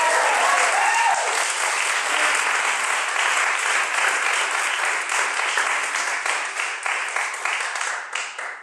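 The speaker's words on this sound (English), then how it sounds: "Give him a round of applause." An audience at a poetry performance applauds, giving dense continuous clapping that stays loud and then gradually thins out toward the end.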